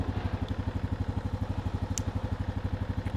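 A 2024 Honda Rubicon Deluxe ATV engine runs at a steady, even putter with fast regular pulses, close and moderately loud, with a couple of faint clicks above it.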